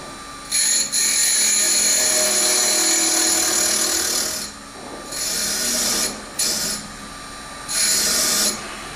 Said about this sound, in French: je mets ma meule en rotation